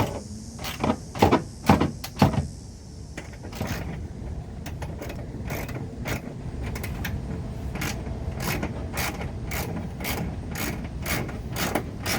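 Screws, 10mm, are driven into a rear wheel well liner on a 2015-2020 Ford F-150. A few loud mechanical bursts come first, then a long run of quick, evenly spaced ratcheting clicks close by.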